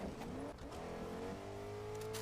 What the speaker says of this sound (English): That sounds like a truck.